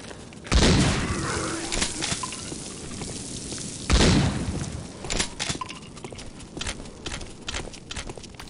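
Gunfire in the zombie shooter video game Day of the Zombie, two loud blasts several seconds apart with smaller scattered impacts and clatter between them, heard alone without talk.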